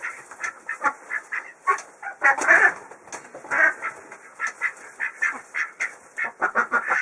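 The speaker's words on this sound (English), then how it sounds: "I think I'm getting better at catching ducks." Khaki Campbell ducks quack repeatedly in a busy, overlapping chorus, loud and close, with rapid bursts of calls and no talking.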